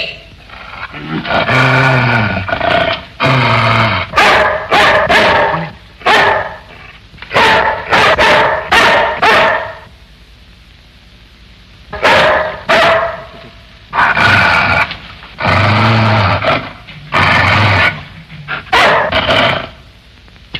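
A dog barks loudly and close in repeated bursts and runs of deep barks, with short gaps between them, set in a 1966 Pakistani film.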